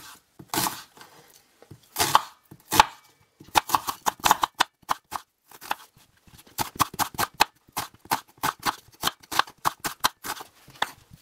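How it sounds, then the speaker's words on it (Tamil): A knife chops two medium onions lengthwise on a board in quick, crisp strokes, with sharp close taps coming in uneven bursts and brief pauses between them, without any voices. "நான் ரெண்டு மீடியம் சைஸ் வெங்காயத்தை இந்த மாதிரி நீளமான சைஸ்ல கட் பண்ணிக்க போறேன்."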